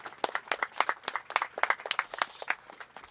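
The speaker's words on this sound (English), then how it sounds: "give another round of applause for the Hillerich family" Crowd applause for the Hillerich family at an outdoor park opening in Louisville: a steady stream of sharp, moderately distant claps from a small gathering, with no talk over it.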